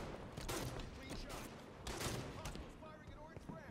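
Rapid gunfire from a Halo 5 multiplayer match rattles through the whole stretch in dense bursts, loud and close, mixed with game effects and crackling action noise.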